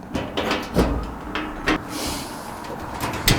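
A metal electric cabinet with spring-loaded doors is handled and a door taken off, giving a run of scraping, rattling metal knocks and clanks at close range in a quiet workshop.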